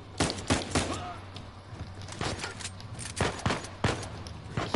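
Bursts of gunfire in the video game Uncharted 4, during the Saint Dismas heist: repeated loud, sharp shots and rapid volleys spread across the scene amid ongoing combat clatter.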